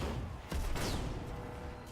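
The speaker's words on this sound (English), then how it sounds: "an ammo explosion in the CT just blew out the fusion core" Mech ammo explosion in the video game Battletech, a sharp crackling blast followed by a second burst and rumbling, crackling aftermath, moderately loud with no talk.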